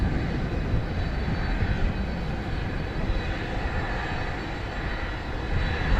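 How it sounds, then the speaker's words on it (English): A Fiji Airways jet takes off at Dallas Fort Worth airport, its engines a loud, steady, broadband roar that holds throughout without any talk. "So at 11:16 off goes Fiji Flight"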